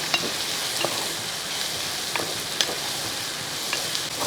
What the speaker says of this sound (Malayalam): ഇനി ഒന്ന് ഇളക്കി കൊടുക്കുക